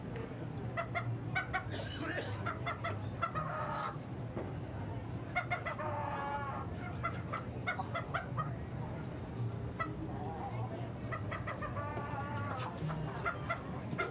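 Show chickens at a state fair poultry showmanship event clucking and crowing throughout, with scattered bird calls over a steady crowded-hall murmur.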